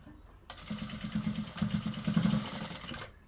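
A domestic sewing machine runs in steady bursts while stitching a quarter-inch seam on a princess-cut blouse with piping, its motor whirring loud and close after a quiet start, then stopping near the end.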